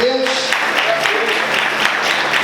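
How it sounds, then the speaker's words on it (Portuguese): A church congregation clapping loudly and steadily, a dense wash of applause filling the space throughout, with voices mixed into the crowd noise. "Você pode aplaudir Jesus? Bem forte"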